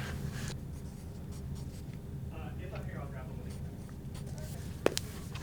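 A first-grade child writes out a final answer by hand during a money jar assessment, faint scratchy pencil strokes over a quiet room hum, ending with a sharp tap near the close.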